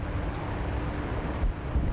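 An F-4 Phantom jet climbing just after takeoff in the DCS flight game, a steady roaring engine rumble with rushing wind and a brief higher whine, no voices.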